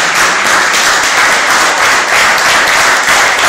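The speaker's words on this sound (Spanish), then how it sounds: "Dale un fuerte aplauso al Señor" A church congregation claps in a loud, dense burst of applause lasting a few seconds, steady and close, with no talking over it.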